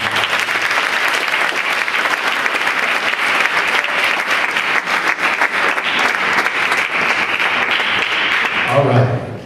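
An audience at an after-prom hypnotist show breaks into sustained, loud applause that fills the room for several seconds before fading out at the end.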